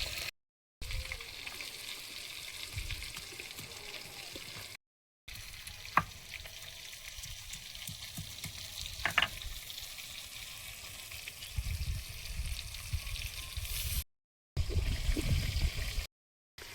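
Fish sizzles and spits steadily in hot oil in a pan, a close, continuous frying hiss with a few brief gaps and occasional sharper crackles.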